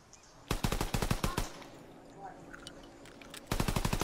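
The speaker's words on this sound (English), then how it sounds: "Oh wait, that is a machine pistol." Two rapid bursts of machine pistol fire in Call of Duty WWII, each a dense rattling string of shots lasting about a second, separated by a quieter stretch of faint game ambience and scattered small clicks.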